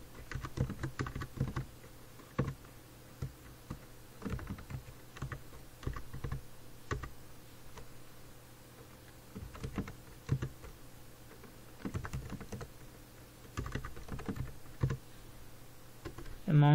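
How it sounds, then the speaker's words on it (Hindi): Computer keyboard typing while entering data into an Excel sheet, in irregular bursts of close, crisp key clicks separated by short pauses, over a faint low hum. "अमाउंट टाइप करते हैं,"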